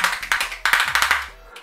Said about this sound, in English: it's just like a mad little merchandise thing of just a hand clapper.